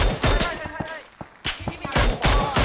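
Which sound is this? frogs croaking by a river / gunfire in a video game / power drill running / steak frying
gunfire in a video game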